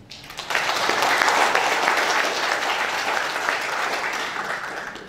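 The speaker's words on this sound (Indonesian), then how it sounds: "Kita tepuk tangan ya." A crowd at a graduation ceremony bursts into applause after a brief quiet moment, clapping loudly and steadily, then slowly tapering off.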